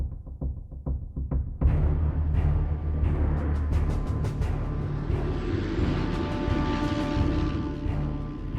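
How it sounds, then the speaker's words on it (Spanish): British and American planes landing on the icy runway at Saki airport in Crimea in February 1945 give a loud, steady throbbing engine drone that fills the scene after a brief onset, with no speech. "aviones británicos y estadounidenses aterrizan en la pista helada del aeropuerto de Saki en Crimea"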